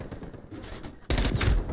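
A short, dense burst of automatic gunfire erupts in Call of Duty Cold War, loud and close after a moment of quieter muffled game sound.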